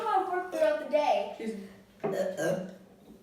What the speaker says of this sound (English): to record and see what I burp throughout the day